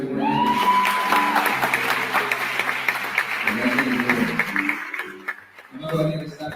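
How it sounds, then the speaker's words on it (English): An audience at a live radio show claps together, a dense burst of applause heard beneath and between voices talking over it, fading slightly toward the end. "Can we clap for the black people being here for"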